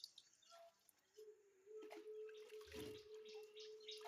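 Water splashing and running in a basin as vegetables for a village soup are washed in plenty of water, with soft faint sloshes and a steady low pour that builds midway and continues to the end.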